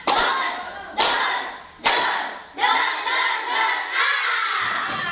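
Classroom of students performing the tepuk tembak clapping chant, a series of loud sharp group claps in rhythm, followed by a run of shouted chanting with quicker claps, voices and hands close together.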